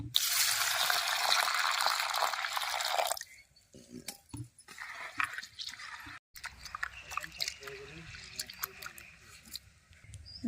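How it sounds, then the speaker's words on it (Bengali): Masoor lentils swished and rinsed by hand in a basin of water, with a steady sloshing wash at first, then softer drips and splashes, and brief talk in between. "জল পাল্টে পাল্টে দুই থেকে তিনবার ভালো করে ডাল ধুয়ে নেব"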